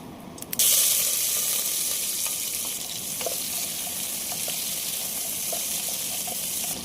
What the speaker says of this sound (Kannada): ಎಣ್ಣೆ ಕಾಯ್ದಿದೆ, ಇವಾಗ ನಾನು ಸಾಸಿವೆ ಹಾಕ್ತಾ ಇದ್ದೀನಿ.